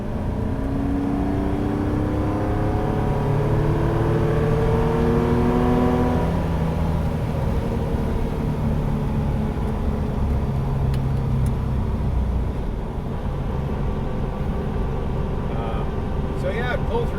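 A large car engine revs up with a rising pitch, shifts gear, then holds a loud, steady drone as it pulls.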